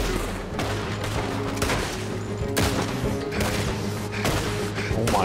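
Rapid gunfire in Red Dead Redemption 2: a dense, loud fusillade of overlapping shots and booming cracks, several volleys close together across the whole stretch.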